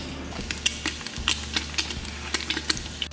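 Bear fat renders in a pot and sizzles steadily while a utensil stirs it, with quick clinks and scrapes of metal over a low, constant frying hiss.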